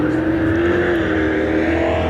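Race cars at a local Friday heat and feature event roar down the track into turn 3, a loud, steady sustained engine drone throughout with no break.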